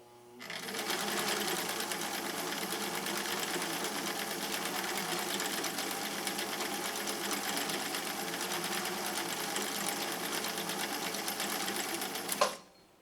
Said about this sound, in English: So this again is going to be cam F, and this is going to be the yellow stitch